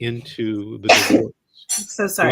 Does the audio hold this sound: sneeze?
yes